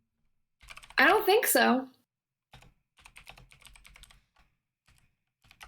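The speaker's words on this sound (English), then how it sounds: "I can hear typing over there." Keyboard typing off to the side in a room, a run of soft, uneven key clicks that follows a brief spoken remark and carries on faintly in scattered bursts.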